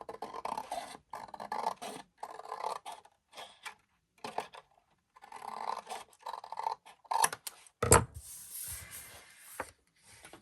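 Scissors snip through a paper tab in short bursts of close, crisp cutting and rasping strokes separated by brief pauses, with a louder thump near the end.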